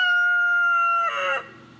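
A chicken crows once, loud and close: a long sustained call that breaks into a rougher falling tail and fades out, heard alone with no talking.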